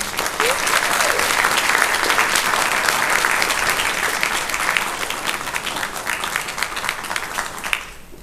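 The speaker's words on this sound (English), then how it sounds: "Please give him a big round of applause." A large crowd at Comic-Con applauds loudly and continuously, a dense wash of clapping that fades slightly toward the end.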